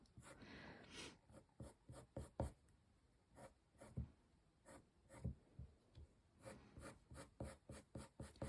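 Colored pencil strokes scratch across paper in short, quiet bursts, some quick and rhythmic, others slower rubbing, close up with no voices.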